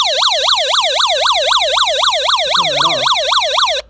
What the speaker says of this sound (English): So that's a alarm siren, which is cool.